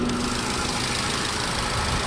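A 2015 Ford Focus Titanium's 2.0-liter four-cylinder engine idles quietly and steadily with a faint even hum, heard close under the open hood.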